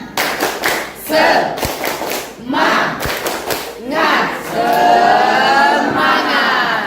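An Indonesian physics class, standing, performs a rhythmic spirit clap: bursts of group clapping and thumps mixed with chanting and shouted voices, the crowd noise swelling loudly toward the end.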